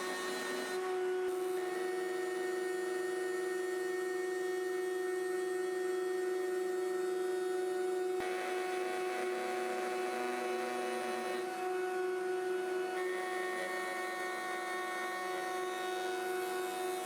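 A router spins in a router table fitted with a dust hood, milling wood with a steady, loud high-pitched whine and shifting tonal hum, sustained throughout with slight changes in pitch as the cut progresses.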